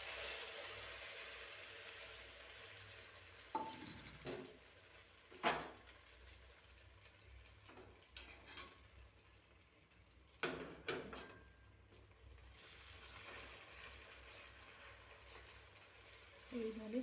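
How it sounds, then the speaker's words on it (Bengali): Egg and Maggi noodle omelette batter frying in a hot kadai, a soft steady sizzle with intermittent scrapes and stirring clatter from a utensil against the pan, fairly close and moderate in level. "কড়া আমার তেতে গেছে, এবার আমি এই ডিম আর ম্যাগি যেটা একসঙ্গে তৈরি করছিলাম সেটা দিয়ে দিচ্ছি।"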